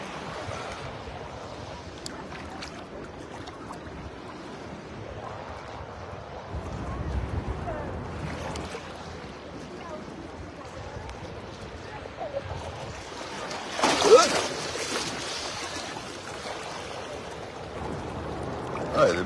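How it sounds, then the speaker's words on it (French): Ocean waves breaking on a beach shore make a soft, continuous wash with one louder surge midway, faint and distant under light wind noise. "Ah, il y a des belles vagues, hein."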